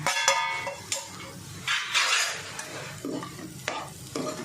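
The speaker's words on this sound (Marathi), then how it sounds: "फक्त याच्यामध्ये आता हा परतून व्यवस्थित घ्यायचा" A spatula scrapes and stirs a potato masala filling for stuffed capsicum as it sautés in a pan, with irregular close clinks and scrapes over a soft sizzle and no voices.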